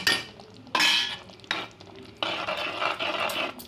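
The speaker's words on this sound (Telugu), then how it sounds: "1 స్పూన్ కారం వేసేసుకొని శుభ్రంగా ఇలాగా కలిపేయండి" A spoon scrapes and stirs chili powder into onion curry masala in a pan, producing a few separate scraping strokes and then a longer run of quick stirring with light clinks.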